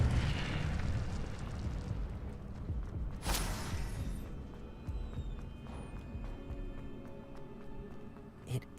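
A fire spell is cast in Hogwarts Legacy, giving a sharp bright burst near the middle over a dense rumbling game mix. Crackling and whooshing carry on beneath, with a small pop near the end.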